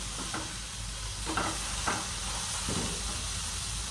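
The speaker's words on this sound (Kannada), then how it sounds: "ಈ ರೀತಿ ಬೆಣ್ಣೆ ಹಾಕಿರ್ತೀವಲ್ಲ ಸ್ವಲ್ಪ ಸೀದೋಗುತ್ತೆ" Butter sizzles in a pan during home cooking: a soft, steady frying hiss with a few light stirring scrapes. The sound is quiet and unbroken, with no voices.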